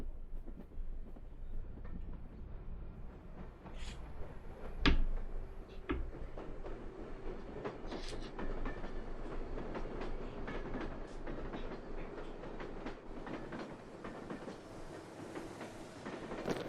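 A video game train from Pathologic rolls along steadily with rhythmic clickety-clack and occasional metallic clanks, a rumbling rail sound that continues throughout at moderate volume.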